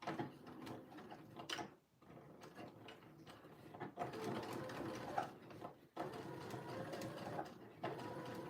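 A sewing machine stitches the bottom seam of a pair of jeans at a one centimetre allowance, whirring in uneven spurts with brief stops and mechanical clicks, fairly quiet and close.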